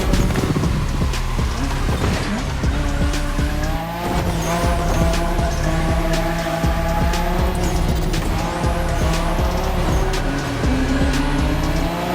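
Drifting car in The Crew Motorfest racing game, with a constant loud engine drone rising and falling in pitch and sweeping tire squeals through the run, no voices.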